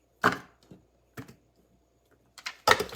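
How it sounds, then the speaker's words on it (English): A manual chopper pressed down on onions, giving sharp, close plastic clacks and chops in uneven bursts, four or five distinct strikes separated by brief silences, with no talking. "the more that I push down on it, my eyes are watering, the smaller my onions are going to be cut"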